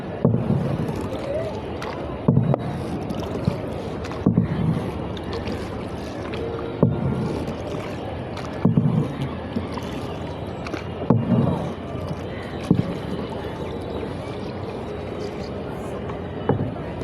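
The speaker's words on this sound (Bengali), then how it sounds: "এই নৌকার বৈঠা" Oars working a rowing boat on a park lake, with rhythmic splashing strokes about every two seconds over steady wind noise and some background talk.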